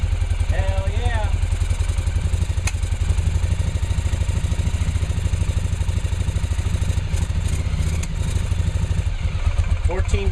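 Yamaha Virago motorcycle engine running on newly installed carburetors: a steady, close, loud idle with even rapid firing pulses throughout, a brief throttle blip near the start, and a voice talking over it.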